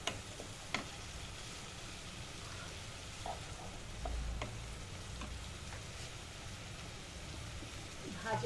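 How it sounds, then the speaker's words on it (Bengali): A spiced mixture for egg malai curry fries in a pan with a low, steady crackling hiss that runs unbroken throughout, with occasional faint ticks and pops and no talking. "এটা একটু ভাজা ভাজা হবে। দেখো ভাজা হচ্ছে।"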